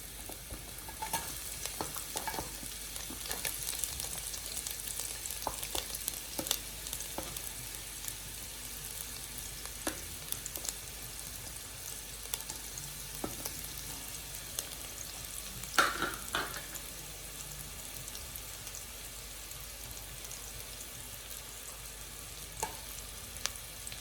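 Large onions frying and being stirred in a pan for crispy chilli beef: a soft continuous sizzle with scattered scraping clicks of the utensil, fairly quiet and close, no talking.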